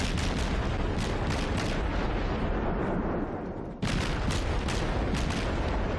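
Naval guns firing high-explosive shells in a World of Warships battle aboard the cruiser Dresden, a dense continuous roar of booming shots and rumbling blasts, with a brief dip before another loud salvo bursts in.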